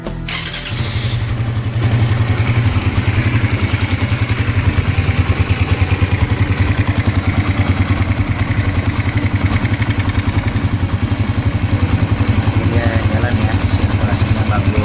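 A Suzuki Satria FU fuel-injected motorcycle, about five years old, starts with a brief crank and catches, then settles into a steady, close, loud idle with a fast even pulse that continues to the end.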